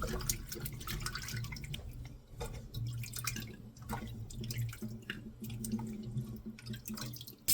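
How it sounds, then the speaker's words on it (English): Fresh tomatoes are washed under running tap water in a sink, a steady soft stream with irregular splashes and drips, quiet and close. "First, I'm going to wash my tomatoes."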